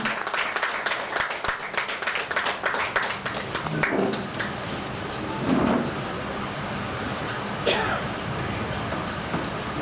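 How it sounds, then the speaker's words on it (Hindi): Audience applause at a hall gathering, dense clapping for the first few seconds that thins out, followed by a quieter murmur with a couple of brief louder bursts. "तालियां जोर से हो।"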